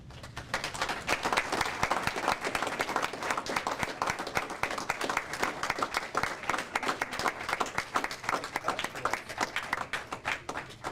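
Audience at a school Do the Right Thing awards ceremony applauds parents, guardians and family members: steady, full clapping from a roomful of people that lasts the whole stretch without letting up.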